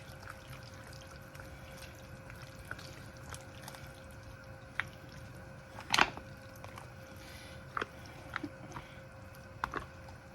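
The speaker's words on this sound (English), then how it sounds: "we're going to stir this around and mix this all together" A potluck dish with melted butter being stirred and mixed in a bowl gives soft, wet, squishy scrapes and occasional sharper clicks, quiet and close, over a faint steady hum.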